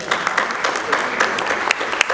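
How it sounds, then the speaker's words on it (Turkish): An audience at a film gala night claps in dense, even applause, close and loud throughout the short burst. "Ona da bir alkışlıyoruz."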